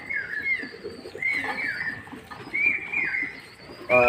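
Birdsong-like calls with rising and falling warbling notes repeat several times at a moderate level, while soft cooing murmurs sit underneath.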